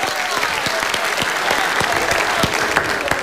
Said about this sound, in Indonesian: Tepuk tangan lagi boleh buat gua.